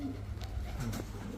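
A pigeon coos softly and briefly, a low soft call over faint background noise, close by.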